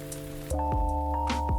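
Rain from a game trailer, played backwards, runs as a steady patter that swells at about half a second into a fuller wash over a sustained tonal bed, with a few soft swooshing accents and no talk.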